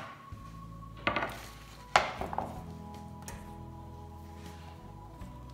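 A knife chops through a carrot on a board, cutting it into flower shapes for a Loy Krathong artichoke decoration, giving two sharp close knocks over low background hum and faint clatter.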